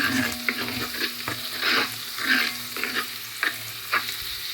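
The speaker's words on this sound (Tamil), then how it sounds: "அடிக்கடி கிளறி விட்டு கொண்டே இருக்க வேணும் வெங்காயம் மெதுவாக வதங்க வேணும்" Onions, with dried curry leaves, sautéing in a pan for a Jaffna crab curry: a soft continuous sizzle punctuated by several distinct stirring scrapes, close and moderately loud, without any voices.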